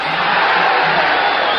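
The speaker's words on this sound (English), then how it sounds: "the crowd yells now with every Escalera blow" A boxing crowd in the 13th round of a fight, yelling and roaring as Escalera lands blows, a dense, loud, continuous wash of voices filling the whole moment.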